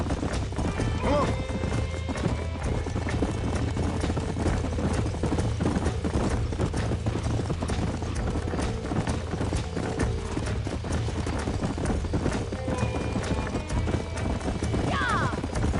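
Horses clip-clop at a steady gallop in the Red Dead Redemption video game, the hoofbeats continuous and fairly close under game music and ambience, with a brief whinny near the end.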